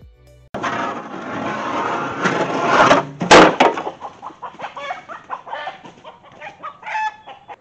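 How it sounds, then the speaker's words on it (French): Roosters and hens burst into loud, agitated clucking and squawking after a sudden bang, then settle into scattered nervous calls close by. "je viens d'avoir une panique générale chez les coqs"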